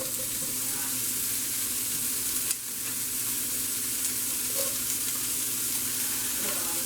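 Chunks of bacon sizzle in a hot sauté pan, a steady, close, bright hiss that runs unbroken from start to finish, with one brief clatter near the middle.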